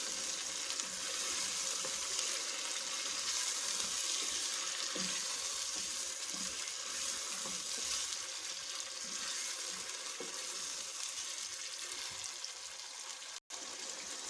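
Yogurt is stirred into a fish curry in a hot pan, giving a soft continuous sizzle with faint scraping and stirring sounds and no talking.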